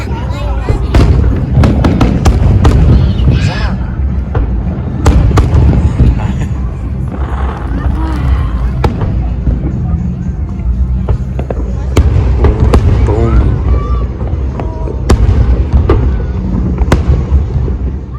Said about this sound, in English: so we got to watch the fireworks